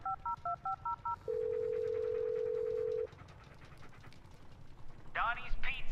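A phone in the Blair Witch video game dials out with a quick run of keypad tones, then a long steady dial tone, followed by a short electronic chirp, with a voice talking faintly underneath.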